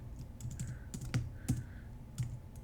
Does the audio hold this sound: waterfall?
no